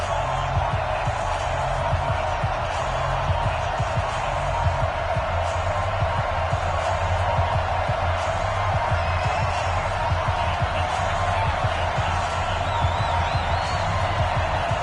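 Steady stadium crowd roar at a Chicago Bears versus Green Bay Packers NFL game in an EA Sports football video game, a constant dense murmur with low rumble, even and unbroken throughout.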